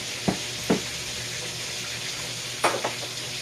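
Quiet frying on a gas stove with a soft background sizzle and a few sharp clinks of a utensil against a pan.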